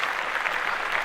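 Short burst of group clapping during a podcast recording, dense and steady handclaps at moderate volume without any speech.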